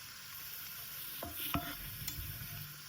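Spices for chicken khichuri being stirred in a hot pan: a faint sizzle with a few sharp scraping and clinking strokes of a spoon across three seconds.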